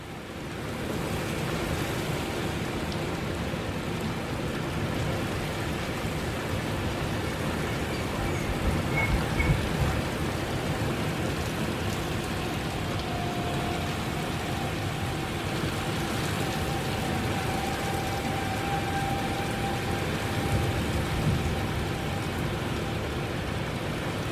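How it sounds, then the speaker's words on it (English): Torrential rain pours down during a severe thunderstorm in Independence, Missouri, a steady, dense roar of falling water that stays constant for the full stretch with no voices. "You can hear the sirens, torrential rain."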